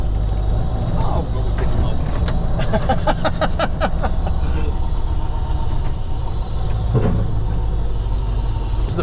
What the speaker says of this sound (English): This is the first right-hand drive truck I've driven in a wee while.